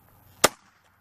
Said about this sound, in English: I'm going to go ahead and just use the hammer for maximum force and hopefully a good explosion